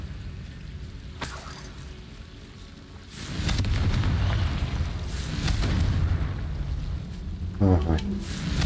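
Fire spell explosion in the game Hogwarts Legacy, a rumbling boom that swells and lingers over low noise, with someone speaking during it.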